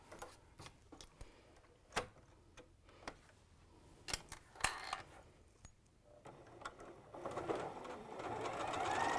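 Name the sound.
sewing machine chain piecing quilt blocks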